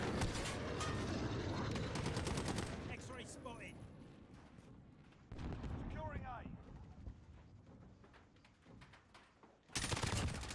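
Video game gunfire as a player shoots at an enemy hiding in a blue tent, dense bursts of shots running almost continuously and loud, with a player talking over the fire at times.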